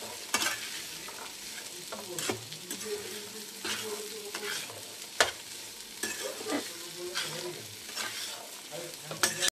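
Boiled chickpeas, pressure-cooked with salt, are stirred into a frying pan for chole, giving a steady sizzle broken by repeated scraping strokes and soft clacks of the spoon, close and fairly quiet, with no talking.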